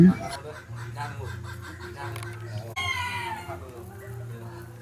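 Silkie chickens at a cafe cluck and call in a short run of throaty, repeated notes, close by, with some background activity and a sharper burst of calls partway through.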